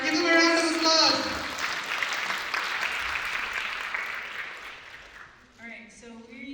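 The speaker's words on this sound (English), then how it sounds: "Give them a round of applause." A live audience claps steadily for several seconds at a community tea-and-stories event, a dense broadband patter that swells right after a voice and fades as speech returns near the end.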